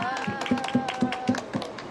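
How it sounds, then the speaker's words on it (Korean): Audience applause at an outdoor sit-in protest talk near Gangnam Station exit 8 during a summer heat wave: steady rhythmic hand claps in even beats, fairly close, with a voice speaking over them. "큰 박수 부탁드리겠습니다."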